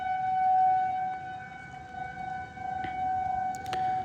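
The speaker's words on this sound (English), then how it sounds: "this is where you do not want to be when this siren is going off" A Federal Signal 2001 tornado siren wails steadily at a distance, a sustained pure tone over faint outdoor background noise with a few brief clicks near the end.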